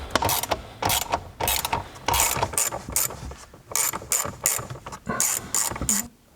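A hand ratchet backs out 7mm bolts from the dash of a Gen2 Ford Raptor, fast repeated clicking in bursts separated by brief pauses, close and clear with no talk.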